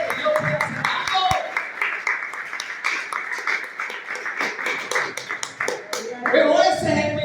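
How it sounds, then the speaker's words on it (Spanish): Church congregation claps in a steady, fairly loud rhythm of many hands, with voices talking and calling out over it. "Alguien puede aplaudir."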